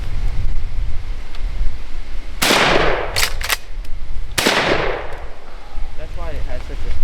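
A 20 gauge pump shotgun with no choke fires at a target outdoors, giving two loud, booming blasts a couple of seconds apart with smaller cracks between them, over wind noise and faint voices.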